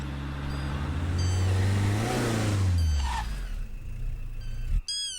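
A car engine revs and sweeps up then down in pitch as the vehicle slows and pulls over to the roadside near a forest, followed by a quieter idle and a sharp thud at the end.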